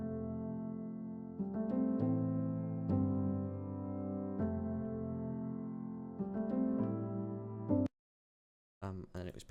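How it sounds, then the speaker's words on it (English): Warm acoustic piano sample played at its original pitch and tempo, sustained chords and melody notes ringing for about eight seconds before cutting to silence, then a brief restart. "sample on Splice of kind of really nice, warm sounding acoustic piano"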